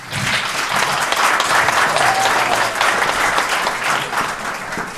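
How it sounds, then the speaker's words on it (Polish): A business event audience greets a speaker with loud, sustained applause, a thick, steady roar of clapping that swells quickly and carries at full strength for the whole stretch. "Wielkie brawa!"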